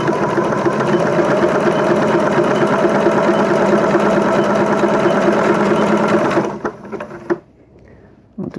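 Sewing machine running a zigzag appliqué stitch, a fast, steady mechanical whirring and knocking that runs loudly for about six seconds, then slows and stops, leaving near quiet.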